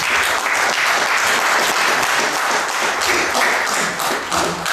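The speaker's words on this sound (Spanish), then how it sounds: "siempre me ha gustado esta costumbre de aplaudir a alguien antes de que diga nada" An audience at a round table event breaks into steady, dense applause, loud and close throughout, with many hands clapping at once and no voices over it.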